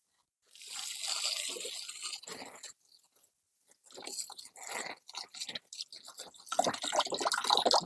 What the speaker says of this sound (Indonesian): Sekarang ini kita siram